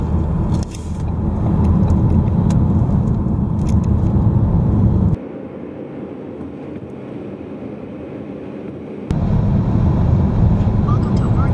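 Steady road and engine rumble inside a car cruising on an interstate freeway in Washington near Vancouver, continuous and loud, with a quieter stretch in the middle before the roar returns.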